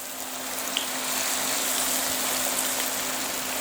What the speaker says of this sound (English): It's gently falling into the oil. And we're going to let it cook until it's golden brown.